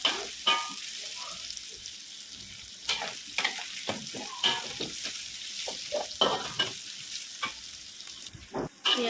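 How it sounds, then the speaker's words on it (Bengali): Chopped onions sizzle in a pan while a spoon stirs and scrapes in irregular bursts, the frying hiss fairly quiet and close. "পেঁয়াজটা ভালোভাবে ভেজে নেব।"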